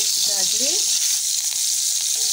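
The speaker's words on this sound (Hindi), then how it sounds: "तो हल्का सा फ्राई करेंगे हम इसे, हल्का हल्का फ्राई करेंगे।" One teaspoon of ginger paste fries lightly in hot oil in a wok, a loud, even hiss of sizzling. A brief voice murmurs near the start.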